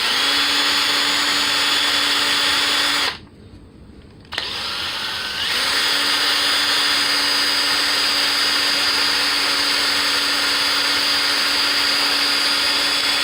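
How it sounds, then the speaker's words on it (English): An electric drill spins a small Kohler Command 18 horsepower carburetor part gripped in a towel for polishing, a loud steady whine that cuts out briefly, then restarts and runs on continuously. "now I'm going to take it and put it on the drill and then hold it really tight"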